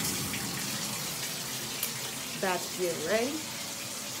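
Tap water runs steadily at moderate level throughout a home bathroom or kitchen on Christmas Eve, a broadband hiss with someone talking briefly over it.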